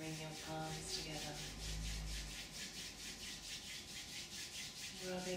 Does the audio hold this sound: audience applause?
no